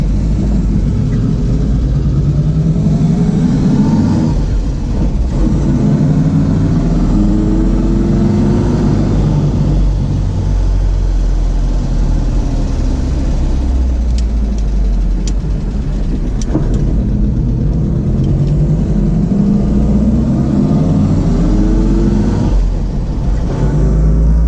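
A 1970 Volvo 145S wagon cruising on the road, its engine rumbling steadily with low drone and wind and road noise throughout, heard from inside the cabin with gentle rises and falls in revs.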